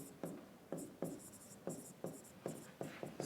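A pen or chalk writing on a board during a lecture, with regular scratchy strokes about twice a second, close but quiet.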